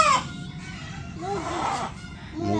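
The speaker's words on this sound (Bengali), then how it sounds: "মুরগি মোরগ।" A rooster crows and chickens cluck close by at a home in Bangladesh, a drawn-out crow rising and falling over steady clucking and rustling, with no talk.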